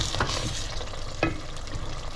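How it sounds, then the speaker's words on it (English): A dish that is sticking slightly is stirred in a hot pan, giving a steady close sizzle with a couple of brief scraping strokes of a utensil. "See, it's sticking just a little bit,"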